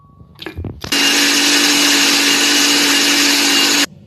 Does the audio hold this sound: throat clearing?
no